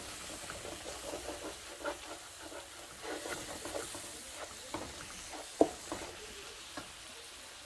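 Scrambled eggs for fried rice cook quietly in a pan with a soft, steady sizzle, broken by faint scraping strokes and one sharper clink of the utensil against the pan.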